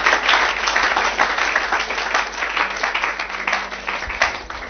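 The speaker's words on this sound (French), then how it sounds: "Acclamons le Seigneur, Jésus-Christ." A church congregation bursts into sustained applause during a Sunday service, a dense, steady clapping that fills the room for several seconds.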